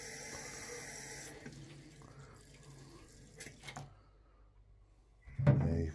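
A campervan Maxxfan fan part is rinsed under a running tap in a sink, with water gushing and splashing against the plastic, then a pause and a louder splash at the end.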